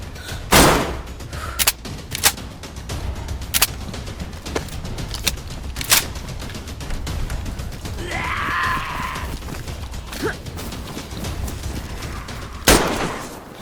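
Sharp single gunshots crack at irregular intervals in a zombie survival game, loud and close, with a groan-like creature cry partway through and a final heavy shot at the end.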